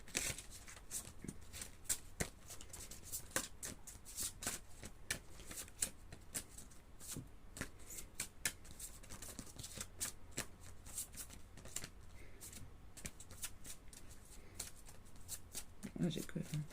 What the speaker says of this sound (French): ces cartes à mélanger